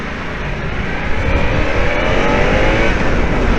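A motorcycle accelerating hard away from traffic lights in a drag-style launch, a loud, close, continuous engine roar that builds steadily with road and wind noise and no talk.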